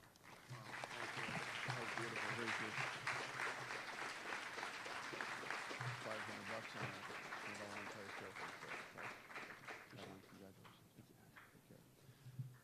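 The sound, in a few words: audience applause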